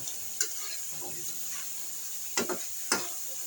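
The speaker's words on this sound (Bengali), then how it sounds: "মাছটা দেখো গাইস একদম ভাজা ভাজা হইতেছে" A fish head frying in a pan, a soft continuous sizzle with a few sharp scraping stirs of a utensil against the pan, close but fairly quiet.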